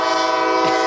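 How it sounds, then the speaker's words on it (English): A slow-moving train crawling along at about five miles an hour lets out a loud, sustained horn blast that fills the whole moment, close by and steady. "Do you have a train there,"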